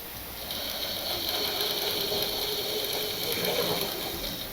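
Sewing machine stitching fabric for a machine cover runs continuously throughout, a steady, fairly loud rapid mechanical whir and clatter.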